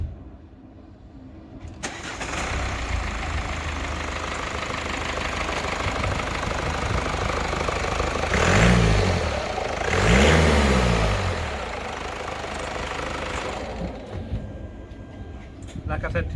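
A 2017 Mercedes E-Class engine cranks and catches, then settles into a low, steady idle with two brief revs in the middle, heard close up.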